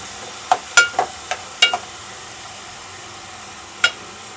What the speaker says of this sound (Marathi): व्यवस्थित परतून घ्यायचा